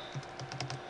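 Fingers type on a computer keyboard while writing a mod menu script, a quick, close burst of about half a dozen light key clicks.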